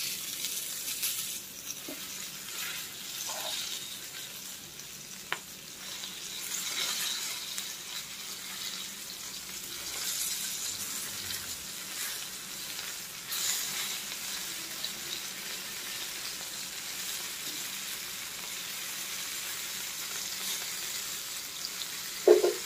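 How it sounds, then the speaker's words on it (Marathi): Fish frying in a pan, a soft continuous sizzle with a few faint clicks, steady and fairly quiet throughout, no voices. "तुम्ही यावर झाकू देखील शकता. झाकून देखील फ्राय करू शकता."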